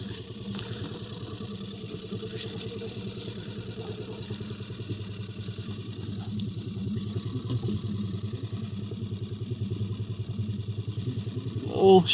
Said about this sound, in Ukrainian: зайти, е, так би мовити, на парковку на бензиновому моторі.